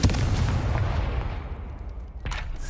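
A Confringo explosive spell blast in Hogwarts Legacy starts with a heavy booming burst that rolls and fades over two seconds, then a sharp second crack near the end.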